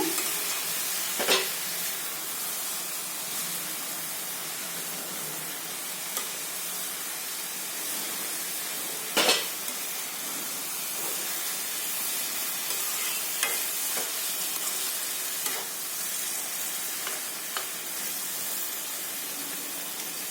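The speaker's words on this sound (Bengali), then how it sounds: "এখন এটাকে ভালো করে একটু নাড়াচাড়া করে দিব" Mustard greens fry in a pan with a steady, close sizzling hiss, broken by a few sharp scrapes and clacks from stirring.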